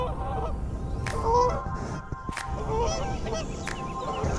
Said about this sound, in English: seeing those geese just fly in right over my head